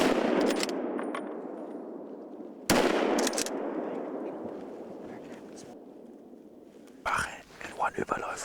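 Gunshots on a wild boar hunt in Hungary ring out as two sharp, loud cracks, each trailing into a long fading echo, with a later burst of closer noises and faint whispering between them.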